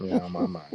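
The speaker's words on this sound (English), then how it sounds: "I hear a lot of birds chirping and crickets and whatnot." Crickets chirp outdoors at night in the wilderness, a steady pulsing trill at moderate level running beneath a man's brief spoken words.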